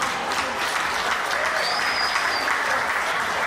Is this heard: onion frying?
no